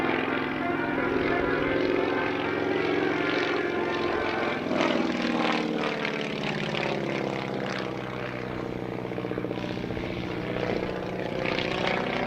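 A Stearman biplane flies at the 2024 National Warplane Museum Airshow, its propeller engine droning steadily and loudly throughout, with a voice talking over the engine noise.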